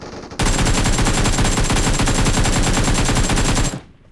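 Automatic gunfire from an AKM rifle erupts in the BGMI battle royale game, one loud, unbroken rapid-fire burst lasting about three seconds before cutting off abruptly.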